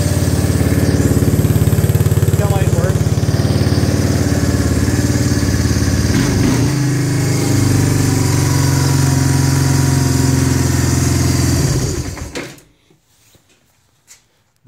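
A 1985 Kawasaki Prairie 250 ATV engine runs steadily and loudly close by, its low mechanical drone holding for about twelve seconds before cutting off abruptly into near silence.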